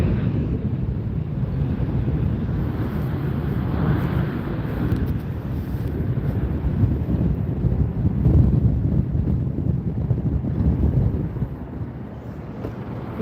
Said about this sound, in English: This jet's going to be taking off into the wind like one of our viewers described.